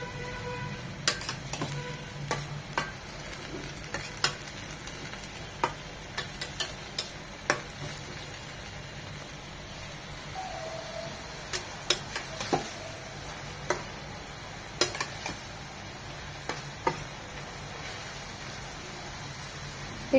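Botta (Bantwa) greens frying in a pan with scattered soft sizzle and periodic stirring clicks and scrapes over a steady low hiss, close and moderately quiet, no talking.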